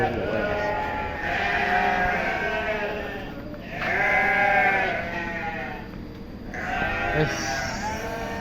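Sheep bleat repeatedly on a sheep farm at Glontang Mring: long, wavering, overlapping cries from a flock, loud and close, coming in three main swells with hardly a pause.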